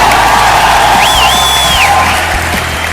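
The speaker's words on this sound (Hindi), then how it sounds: "एक बार जोरदार तालियां," A large crowd at a Vestige award function in Delhi's Thyagaraj Stadium claps and cheers loudly, with a sustained roar and a high whistle rising over it midway through.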